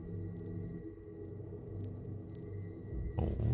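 A distortion effect in the horror game The Sinking City: a low, droning hum with faint tonal whines rises steadily, then bursts into a loud wash of crackling static near the end.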